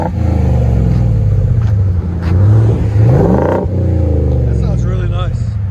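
A silver 2022 Ford F-350 with a 7.3L gas V8 and Borla XR-1 exhaust revs repeatedly nearby, deep loud rumbles rising and falling in several bursts, steady engine drone between them.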